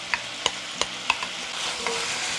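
Chives hit a hot pan with soy-based seasoning and eggs, a soft sizzle running under four or five quick taps and scrapes of a utensil stirring.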